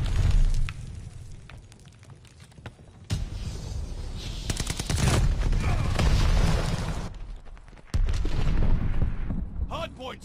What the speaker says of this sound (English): Hardpoint's under fire!